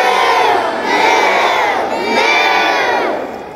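A church congregation at a family Christmas Eve service moos like cows in three long, loud group calls, many voices imitating the animal together.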